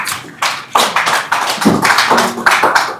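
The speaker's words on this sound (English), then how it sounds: "let's give her a welcome applause" Audience at a blue economy investment summit clapping to welcome a speaker, a burst of irregular handclaps of moderate size, close and loud, building and continuing throughout.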